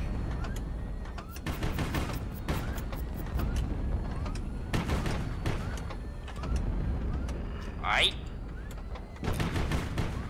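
Crew-loaded tank gun in the HighFleet game firing repeatedly during the Battle of Durros, a rapid series of loud, sharp blasts in clusters with ringing decay, over a constant mechanical rumble and a brief whistling streak near the end.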